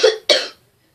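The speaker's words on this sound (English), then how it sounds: "I got a cough" Two quick, close, loud coughs from one person, the second following a short pause, then silence.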